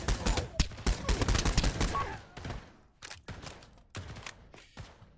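Bursts of compact PDW gunfire from a video game, with rapid volleys of close, loud shots in a dense stretch, then shorter separated bursts with brief pauses between them.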